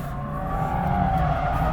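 A 2022 Mazda MX-5 sliding on a racetrack, its engine droning steadily under a broad hiss of skidding tires, loud and close for under two seconds with no voices.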